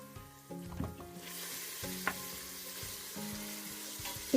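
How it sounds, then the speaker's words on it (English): Meat sizzling and frying in an Instant Pot while being stirred, the sealing stage for a Hungarian brassói; a steady close sizzle with scraping stir sounds throughout, no talk. "when it starts sizzling, I start stirring the meat because we need to seal the meat"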